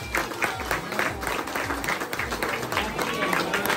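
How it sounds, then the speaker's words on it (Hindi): A crowd applauds at a family anniversary cake cutting, a dense continuous clapping with loud music mixed in underneath. "सभी लोग जोरदार तालियां बजाएंगे।"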